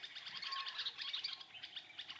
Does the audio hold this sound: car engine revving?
no